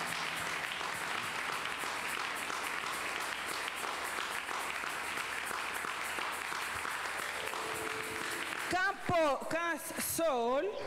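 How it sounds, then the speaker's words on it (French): A church congregation claps steadily in praise, a dense sustained applause that fills the room, until a preacher's voice rises over the thinning claps near the end. "Let's applaud, give a hand to Jesus Christ."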